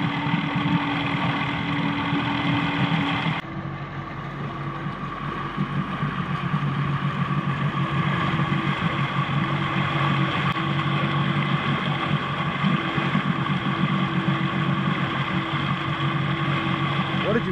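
A jet ski engine runs on the water at a boat launch, a steady droning hum that holds level throughout, with a brief shift in pitch near the start and faint background sounds.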